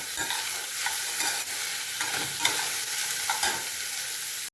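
Bottle gourd peels are tossed with salt and turmeric in a pan, a soft continuous sizzle under repeated scraping and shuffling strokes of a spatula, close but fairly quiet.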